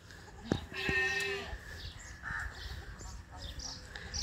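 Goats bleat outdoors, a wavering cry near the start followed by fainter, more distant bleats, with bird calls and background noise around them.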